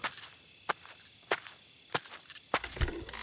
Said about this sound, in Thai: จู่ๆชายชราก็ได้ยินเสียงฝีเท้าแผ่วเบา